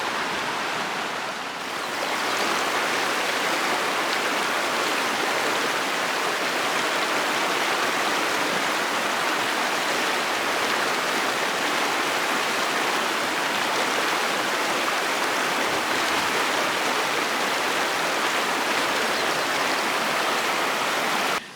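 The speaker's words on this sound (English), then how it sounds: "That river is beautiful." A river in the Uinta Mountains rushes in a loud, steady broadband roar of flowing water, unbroken throughout and nearby, with no voices.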